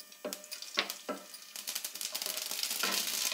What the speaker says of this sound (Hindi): अब हम इसमें राई डाल देते हैं।